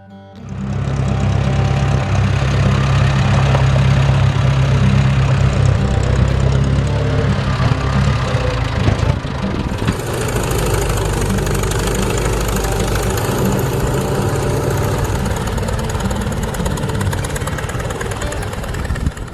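A Ford 600 tractor engine runs at idle, a loud, steady low mechanical rumble with a knocking pulse that carries on without a break and with no talk.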